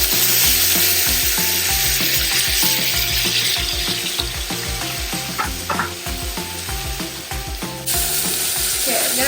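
Crispy duck breast sizzles loudly in a pan after being flipped, a continuous hiss of fat with rhythmic scraping and stirring clatter underneath and no talking.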